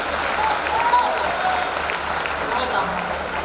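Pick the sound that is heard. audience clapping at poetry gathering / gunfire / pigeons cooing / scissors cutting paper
audience clapping at poetry gathering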